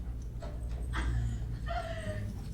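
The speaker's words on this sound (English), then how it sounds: "It's a dog." A dog whimpers and yips in short, thin cries over a low, steady hum, fairly close.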